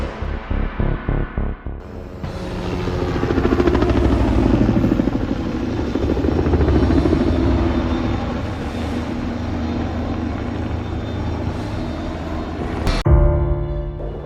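A helicopter arrives, its loud rotor and engine roar swelling in after a few seconds, holding steady and close for over ten seconds, then cutting off abruptly near the end.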